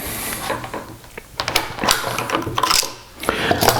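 A Barnett M95 bolt-action rifle has its bolt worked by hand to cycle and eject, giving a quick series of close metallic clicks, slides and clacks.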